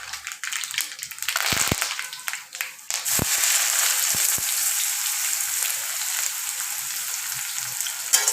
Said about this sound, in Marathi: आता फोडणी देऊन घेऊया भाजीला.